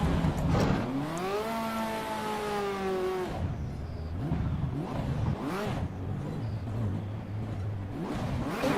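Racing car engine in a sim racing video game, revving hard with rising and falling whine as it shifts through gears, then settling into a lower steady drone, loud and close throughout.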